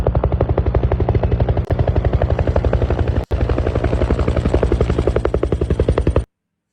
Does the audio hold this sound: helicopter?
yes